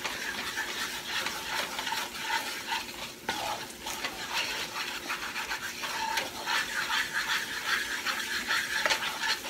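Gravy stirred in a pot for smothered potatoes on a stove at medium-high heat, a steady scraping stir over a constant sizzle, close and continuous with no talking.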